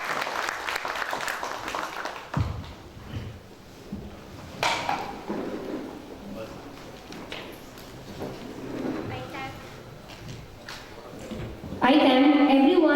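Audience applause at a startup policy inauguration event, a broad crowd clapping that fills the room, building into a loud, dense burst of hand claps at the end.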